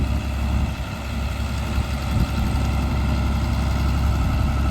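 A narrow-front 4020 diesel tractor runs steadily nearby at a farm plow day, a constant low rumbling drone with no talk over it.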